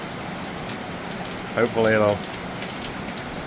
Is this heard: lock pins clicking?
no